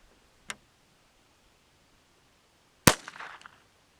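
A rifle fires a low-power load of 5 grains of Hodgdon powder. A small tick comes first, then a single sharp, fairly quiet crack with a brief rattling tail, heard alone.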